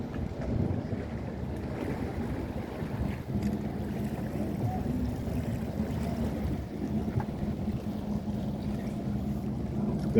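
A tour boat's bow thruster runs near sea caves in a steady low rumbling drone, with wind noise and water sounds over it.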